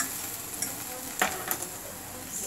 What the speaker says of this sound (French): Alors je vais mettre une gousse d'ail.